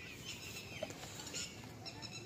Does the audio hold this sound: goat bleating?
yes